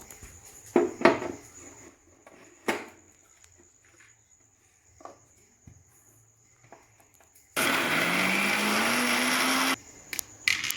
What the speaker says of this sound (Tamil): இப்போ நம்ம இதை மிக்சியில் வச்சு நல்லா அரைச்சி எடுக்க போகிறோம்